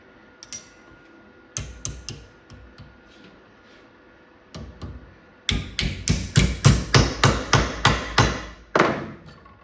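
Hot sheet metal tabs being bent over in a vise, with a few scattered metallic knocks followed by a rapid, evenly spaced run of about a dozen sharp, ringing strikes close by.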